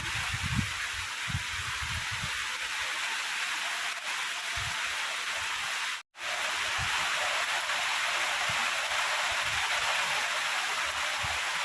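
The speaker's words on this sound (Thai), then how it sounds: "ฝนตกกระทบสังกะสี" Steady rain drums on a corrugated zinc roof over a small hut, a dense, even hiss with scattered low thumps throughout, broken only by a brief dropout near the middle.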